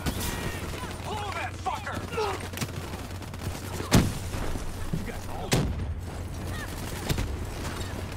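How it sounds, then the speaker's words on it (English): Gunfire and a sharp explosive burst ring out in a Call of Duty: Black Ops 3 tunnel, with a few distinct cracks standing above a steady low rumble, mixed with brief voices. "Detonation confirmed."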